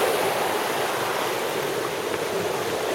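A flooded creek turned into a raging river rushes past nearby, a loud, constant roar of churning water with no pauses.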